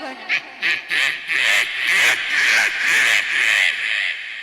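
A performer's voice mimics a stubborn monkey with a rapid series of loud, harsh, nasal squawks and chatters, about eight bursts in quick rhythm, delivered onstage at a Kudumbashree state arts festival mimicry contest.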